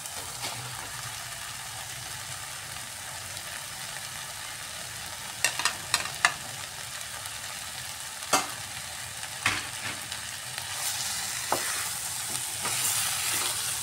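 Boiled potatoes being stirred into a sizzling omelette curry masala in a pan, with a steady frying hiss and several sharp scraping clacks of the spoon, no talking.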